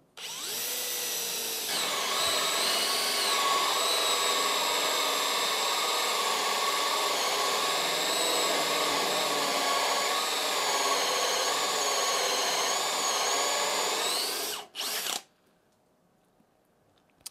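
A Bosch Professional GSB 18V-65 cordless drill running in second gear drills steadily for about fourteen seconds, a loud whining motor hum with a strained grinding tone, then cuts off abruptly into near silence.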